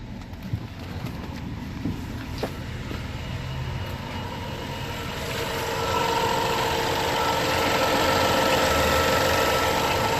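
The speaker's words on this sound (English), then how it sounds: "the cold startup sounds much better" Car engine idling shortly after a cold startup, a steady, even broadband rumble with no speech that swells slightly louder partway through and holds.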